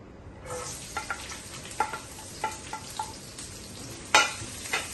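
Garlic sizzles steadily in hot oil for a dates and lemon pickle, with a spoon scraping and stirring the pan in several distinct clacks and one louder knock near the end, close and loud with no talking.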